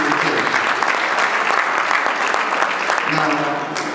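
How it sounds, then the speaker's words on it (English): An audience at an awards event applauds loudly, a dense, even wash of clapping from many hands that holds steady for a few seconds and then tapers slightly at the end. "let's give Brother Ernest another round of applause"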